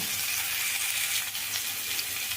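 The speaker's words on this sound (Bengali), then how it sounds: "আলুগুলো হালকা করে ভাজা হয়ে গেছে এখন আমি এর মধ্যে দিয়ে দিচ্ছি গোটা জিরে" Whole cumin seeds dropped into hot oil with lightly fried potatoes for a mutton curry, giving a continuous bright sizzle and crackle at close range, alone without talk.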